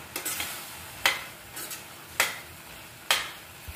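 Carrot halwa being stirred in a pan after cardamom powder goes in, a spoon scraping the metal in four or five distinct strokes over a faint sizzle, close up and with no talk.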